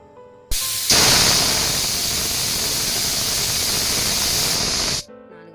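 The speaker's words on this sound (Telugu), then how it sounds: "మూత పెట్టుకొని ఒక 4 విజిల్స్ వచ్చే వరకు వెయిట్ చేయాలి" A pressure cooker holding spicy chicken vents steam on the stove: a loud, sharp hiss starts abruptly, holds steady for about four and a half seconds with a brief higher whistling edge early on, then cuts off.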